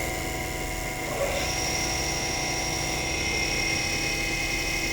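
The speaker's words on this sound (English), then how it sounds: "Start the spindle." A Harig E-Z Surf 618 6 x 18 inch surface grinder spindle spins up to a steady high whine with a constant hum underneath, close and continuous.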